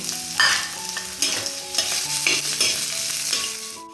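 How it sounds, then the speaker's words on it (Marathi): Onion frying in oil on a griddle pan with ginger, garlic and green chili added, a steady sizzle broken by frequent scraping and stirring clatter, close and fairly loud, with no talking. "कांदा भाजून घेते आणि यातच मी आलं लसूण आणि मिरची टाकते"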